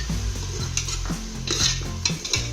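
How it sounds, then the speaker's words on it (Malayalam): Ground tomato paste sautéing in a pan for kabsa, with a steady low sizzle and a spoon scraping and stirring in several regular strokes close by. "തക്കാളിൻ്റെ പച്ച ഒരു ആ വാസനയൊക്കെ ഒന്ന് പോകുന്നത് വരെ വഴറ്റി കൊടുക്കാം"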